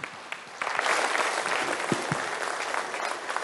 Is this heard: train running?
no